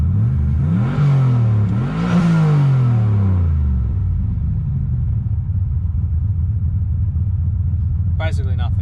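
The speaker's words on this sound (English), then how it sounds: "So we'll free rev it and see what it gets to." Turbocharged car engine free revving, with two sharp rev blips climbing and falling back before settling into a steady idle, close and loud, and a brief chirp near the end.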